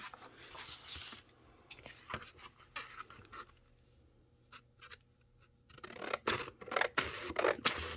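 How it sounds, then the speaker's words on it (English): Scissors trimming excess 65-pound paper while making a handmade storage book: close, crisp snipping and slicing, with quieter cuts at first and a denser run of loud cuts near the end. "now we're going to trim off our excess"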